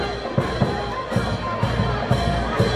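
A crowd at a rural bullfight in Pampachiri cheers a bullfighter. Murmuring and hubbub continue throughout, broken by sharp, fairly regular bursts of clapping at a middle distance.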